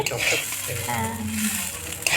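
Steady sizzling of whole garam masala and bay leaves frying in hot ghee for pulao, with a soft stir partway through; continuous and close, no talking.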